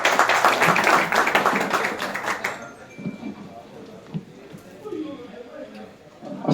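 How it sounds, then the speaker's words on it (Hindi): An audience at a gathering breaks into a short burst of clapping that fades after a couple of seconds, followed by quieter room sounds and speech. "तालियां तो मार दो दोस्तों"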